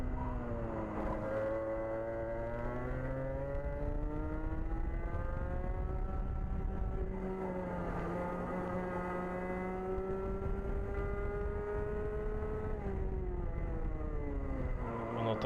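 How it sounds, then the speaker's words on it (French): A small two-stroke kart engine whines high and rises and falls in pitch as it revs through the revs on a race track, continuous and droning, heard from close by. "On entend bien le moteur qui monte vraiment bien dans les tours."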